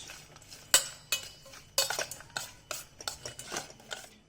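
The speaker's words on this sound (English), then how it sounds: "First I'm going to mix this." Chilies for a dried mutton pickle are mixed in a bowl, giving close, quiet clinks and scrapes of a spoon against the dish in an irregular series of short strokes, with no voices.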